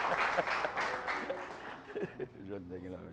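A live audience at the final of a national music competition applauds a performer, a burst of loud clapping and crowd noise that fades out while someone speaks over it.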